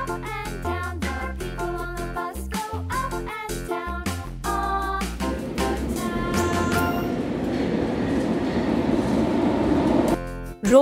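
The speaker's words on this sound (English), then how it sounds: "Metro. It is a metro." A metro train rattles along with rhythmic clacking, then a steadier rolling roar builds as it moves, ending with a brief squeal.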